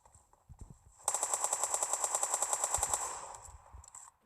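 A rapid burst of automatic gunfire in PUBG Lite lasts about two seconds, with evenly spaced sharp shots that fade into a faint tail, preceded by soft, scattered thuds.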